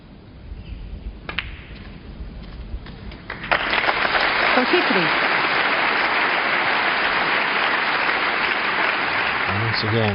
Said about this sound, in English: Once again, warmly applauded by this crowd here in Berlin